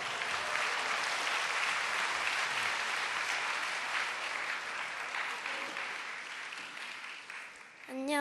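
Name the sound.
church congregation applauding to welcome a child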